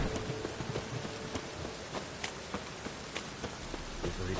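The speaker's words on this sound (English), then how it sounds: "And it's raining again." Steady rain falls in the game The Witcher 3: Wild Hunt as a dense, even hiss, with scattered drop ticks spread through a soft continuous wash.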